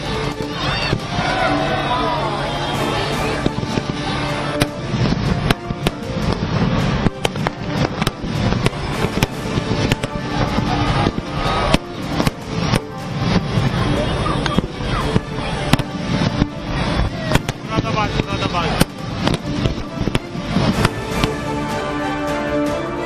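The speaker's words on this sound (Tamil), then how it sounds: "களை கட்டிய தீபாவளி பண்டிகை கொண்டாட்டம், இரவை பகலாக்கிய வான வேடிக்கை நிகழ்வு." A night-time Diwali festival fireworks display makes a dense, continuous crackle of bangs and pops, loud and close, with voices and crowd noise mixed in.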